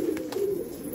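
A quick-tempered Unlimited-lineage pigeon in a Kerala loft gives a short, low coo, a close, fairly loud burst with no talking over it.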